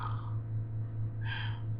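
A person's voice imitates a husband's deep snore: a short, breathy snort-like intake followed by a second rasping burst, close and moderately loud.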